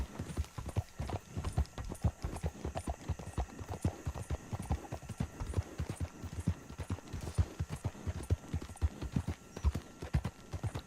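Horse hooves trot steadily in Red Dead Redemption 2, a continuous rhythmic clip-clop with game ambience underneath and a faint voice at moments.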